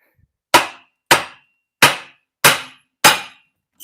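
A big hammer delivers five heavy, sharp metallic blows at a steady, slightly uneven pace, each strike loud and close with a short ringing decay and silence between hits.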